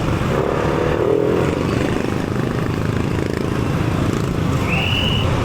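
A motorcycle engine drones steadily and loudly up close while riding through a town street past gas stations, with constant wind rush and a brief higher whine near the end.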